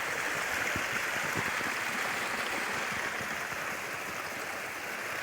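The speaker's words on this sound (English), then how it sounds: "This water is for irrigation project." Water flows steadily along an irrigation channel in the morning outdoors, a continuous rushing wash with no pauses and no talking.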